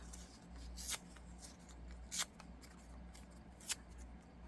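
Paper ripped by hand at a craft table, three short sharp tearing bursts spaced about a second apart over a faint, quiet background.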